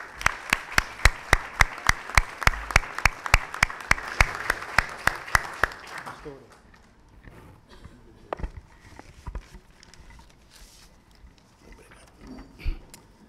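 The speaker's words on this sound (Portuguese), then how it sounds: "com uma salva de palmas." Audience at a Brazilian award ceremony gives rhythmic applause, loud and even for about six seconds, then fades into scattered claps, shuffling and faint murmurs.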